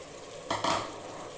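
Mutton fries in its own fat in a pan and gets a quick stir, a steady low sizzle broken by a short scraping swish of a spoon.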